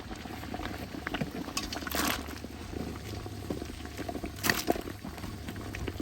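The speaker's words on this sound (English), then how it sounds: "So we are ready to boil our crabs." Dungeness crabs are dropped into a pot of boiling water, with a bubbling roil throughout and two brief splashy surges, no talking.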